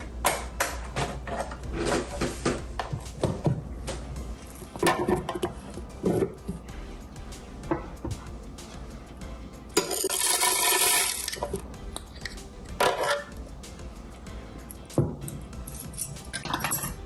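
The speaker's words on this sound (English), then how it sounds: "Let's put all the ingredients in the blender." Clattering thuds and clinks as banana smoothie ingredients drop into a blender, with a burst of pouring or rustling in the middle, loud and close.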